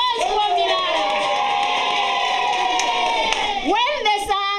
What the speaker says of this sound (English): Can you clap hands for him?